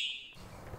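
A fire alarm triggered by a smoke machine indoors gives a brief high shrill electronic tone that cuts off after a fraction of a second, leaving low room rumble.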